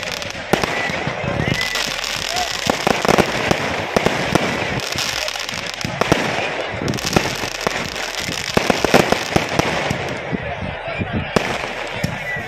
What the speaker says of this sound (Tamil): திருவெற்றியூர் குப்பம் கடற்கரை பகுதியில் வண்ணமிகு பட்டாசுகள் வெடிக்கப்பட்டதை